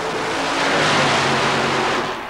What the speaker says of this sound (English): the fuel-injected, nitrous oxide-injected, stretch wheelbase Jeep called Blue Max